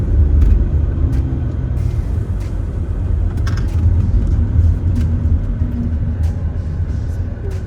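Heavy midday road traffic on a bridge, many cars rumbling in a loud continuous wash with occasional passing swells, no talk.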